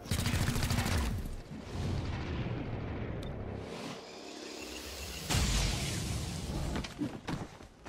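Gunfire and heavy blasts from the video game XCOM: Chimera Squad, loud and dense throughout, with a brief quieter lull midway before another burst of shots and impacts.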